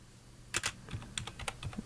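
Keys clatter on a computer keyboard in quick, uneven bursts of several close, crisp clicks, quiet and with no talk over them.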